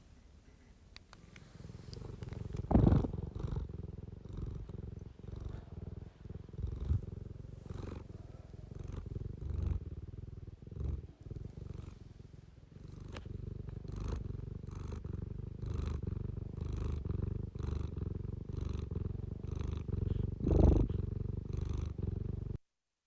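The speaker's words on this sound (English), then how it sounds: "When cats are happy, they make a purring sound" A cat purrs steadily and close by, a continuous rumbling vibration with rhythmic breathing pulses that swells and eases over about twenty seconds, with no other sounds.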